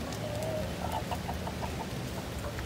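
A bantam rooster clucks in a short series of soft, rhythmic notes over a rumbling outdoor background.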